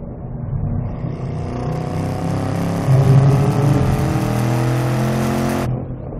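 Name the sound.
sports car engine accelerating toward redline on track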